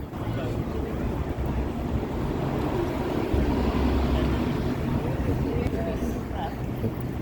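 Strong wind buffets the microphone outdoors on a city street, a steady low rumble with gusts swelling in the middle, and a voice faintly audible underneath.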